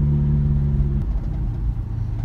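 A 1992 Toyota Corolla DX wagon engine runs with no muffler, giving a loud, close, throaty rumble with a low drone that shifts pitch as it revs slightly, with no voices over it.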